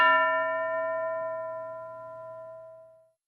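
A classroom bell is struck once and its clear, sustained metallic tone slowly fades over about three seconds, alone and close.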